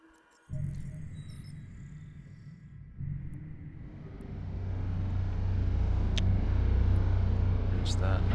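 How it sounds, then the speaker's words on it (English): A starship's warp drive in the video game EVE Online, a low engine rumble that starts abruptly, steps up, then swells into a loud, steady hum with faint high clicks on top. "Warp drive active."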